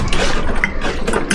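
A two-stroke motorcycle engine of about 80cc, likened to a Yamaha DT, runs steadily nearby with a raspy, buzzing exhaust note and a rattly mechanical texture throughout.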